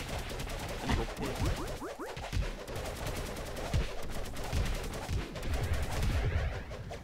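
Sustained volleys of video game gunfire in Cube World, rapid repeated shots and low booms rolling on steadily at a loud level for several seconds, no voices over it.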